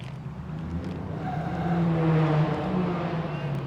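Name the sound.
old Valiant car engine noise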